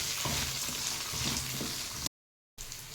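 Onion and curry leaves frying in oil in a pan, a steady close sizzle with faint stirring, cut by a half-second gap of silence before the sizzling resumes.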